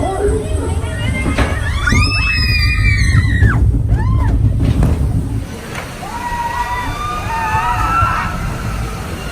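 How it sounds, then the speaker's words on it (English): Riders on Splash Mountain, the log flume ride at Disney's Magic Kingdom, let out a burst of high, rising screams over rushing water and crowd noise, with people talking nearby. "Get ready for a bunch of screaming."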